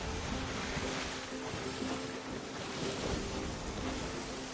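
Steady rush of sea waves and wind around a sailing ship in the video game Sea of Thieves, a continuous dense wash with faint creaking tones underneath and no talking.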